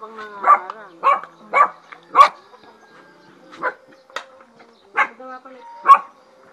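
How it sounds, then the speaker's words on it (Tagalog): A dog barks several times in a steady, fairly loud series of roughly eight woofs at a house on arrival after a ride, with little else around. "Ang tahol niya pang malaki na"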